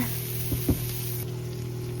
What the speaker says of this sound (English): Say what you will about jarred garlic, but this smells fantastic frying in that fat.